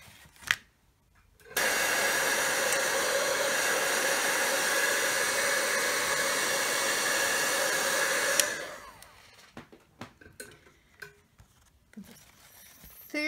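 A heat dryer blows steadily for about seven seconds while drying distress paint on a background, a loud continuous whooshing hiss. It cuts off abruptly and is followed by faint clicks and rustles.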